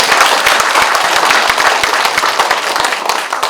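Audience applause at a Korean candidates' debate for Jeongseon county mayor in Sabuk, Gangwon, dense steady clapping from a crowd, loud and sustained for a few seconds without talk.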